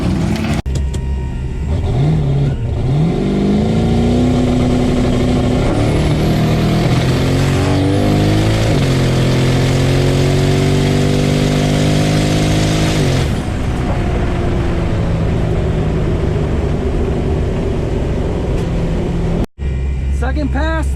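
LS-swapped Mazda RX-7 drag car with a suspected torque converter noise, roaring loudly and continuously as the engine revs climb through the gears on a pass down the strip, close and dominant.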